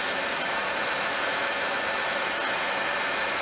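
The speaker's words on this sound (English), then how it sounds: "don't get your fingers near this heat gun" A heat gun blows a steady, loud rush of hot air at close range, warming old finish on a wooden butterfly house so it can be stripped without sanding.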